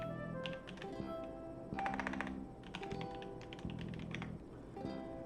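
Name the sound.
typing on a computer keyboard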